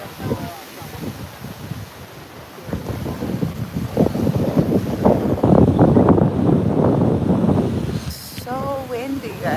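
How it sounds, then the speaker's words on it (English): Strong gusty wind roars and buffets the microphone during a park walk, building louder through the middle, with brief voices faintly heard at the start and end. "So windy, guys."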